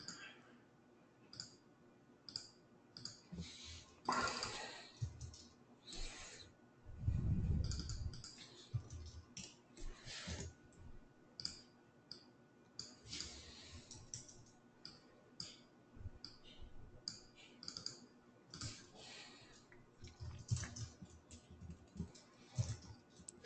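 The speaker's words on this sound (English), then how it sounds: "It's really hard to type with this keyboard in my face" Quiet clicking of typing on a computer keyboard runs irregularly throughout, faint and close, with occasional louder thumps and bits of background noise.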